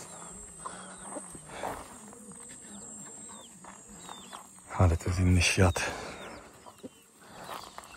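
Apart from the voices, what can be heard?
chickens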